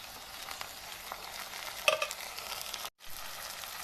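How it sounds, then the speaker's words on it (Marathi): Tomatoes drop into hot mustard oil with onion, green chili and garlic, giving a steady close sizzle and fry with a brief stirring clatter midway and a short break near the end. "चला आता मी टाकते ह्याच्यात मस्तपैकी टमाटर"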